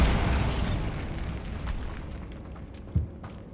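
A Bombarda spell explodes inside a tomb in Hogwarts Legacy, a loud booming blast at the start that decays into rumbling debris, with a sharp smaller thud near the end.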